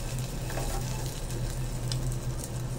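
Lemon garlic chicken pieces, browned, fry in a pan with a steady, close sizzle and a low hum beneath it, continuous throughout with no talking.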